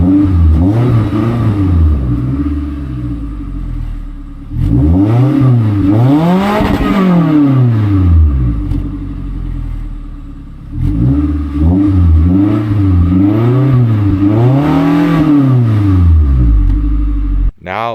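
A Scion tC's four-cylinder engine idles and is revved twice in two long sweeps that rise and fall, loud and close, with a steady idle between the revs and no talking.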